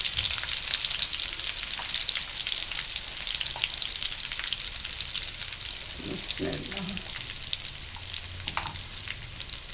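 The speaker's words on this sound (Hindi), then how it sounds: "चंद सेकंड के लिए आपने इसको पकाना है और फिर इसमें आपने जीरा डाल देना है" Cumin seeds fry in hot oil in a pan for egg and potato bhujia, a loud, close, continuous sizzle with a few faint clinks of stirring partway through.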